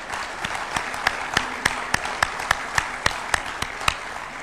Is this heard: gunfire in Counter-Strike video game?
no